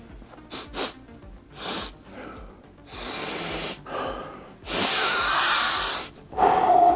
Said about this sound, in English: let's have a sniff at what Leman Russ smells like